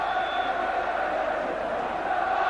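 A football crowd at Liverpool against Chelsea roars and applauds Ronnie Rosenthal's goal, a steady, distant wash of cheering and clapping with no breaks.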